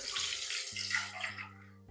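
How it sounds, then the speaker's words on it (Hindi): Water is poured into a pot to cook rice, after oil, curry leaves, cumin and green chillies were fried in it, giving a brief close splashing gush with no talk. "डेढ़ कप पानी डालेंगे।"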